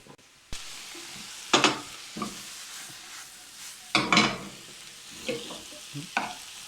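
Food frying in a pan, a low background sizzle broken by several short bursts of stirring and scraping that come and go close by, with no talking.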